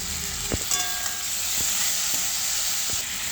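Bottle gourd dropped into a hot frying pan with onions for a lau curry, a steady hissing sizzle with a few sharp knocks and clatters of the ingredients landing and being moved, close by, no talking.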